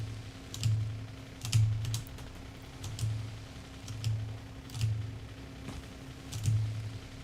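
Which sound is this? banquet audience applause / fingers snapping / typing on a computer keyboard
typing on a computer keyboard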